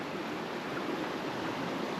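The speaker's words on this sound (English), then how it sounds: "Peaceful noise of the river next to me." The Sandy River flows right beside a tent at night, a steady, soft rushing wash of water that stays even and unbroken throughout, with no other sounds standing out.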